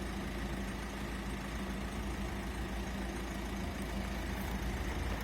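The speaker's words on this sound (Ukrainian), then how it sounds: "машини їздять, не дадуть мені спокою" A steady engine rumble with traffic noise holds constant throughout, a low continuous drone of vehicles moving nearby with no voices.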